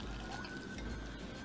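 Hot salted water poured from a bowl into flour for homemade flour tortillas, a soft steady pour for a second and a half.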